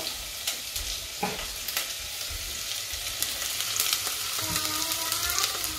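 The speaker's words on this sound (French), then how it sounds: "on va pouvoir mettre nos petits oignons dans une petite cocotte" Chopped onions sizzle in a small cocotte pot as they start to fry, a steady close crackle broken by a few sharp stirring scrapes and clinks, with no voices.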